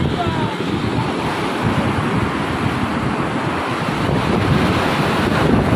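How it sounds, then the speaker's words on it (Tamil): Sea waves wash up a beach, the water surging high onto sand it has eroded; a steady, loud broadband surf roar continues throughout, mixed with wind buffeting the microphone. "மேல வருது தண்ணி, மேல வருது ராகுல்."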